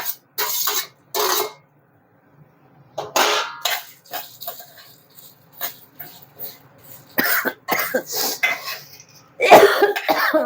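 A person coughs repeatedly in short, harsh bursts with brief silent gaps between them, close to the microphone.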